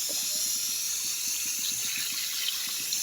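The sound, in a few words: water being added to fish head curry in pan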